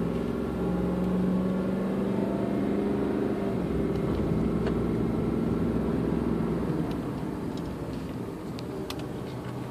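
A 1998 Jaguar XJ8 climbs a steep hill of roughly 40 to 45 degrees, its engine holding a steady, loud drone as heard from inside the cabin, with a faint gear shift partway through and no talking.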